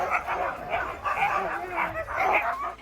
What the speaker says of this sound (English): Look what a beautiful dog I found.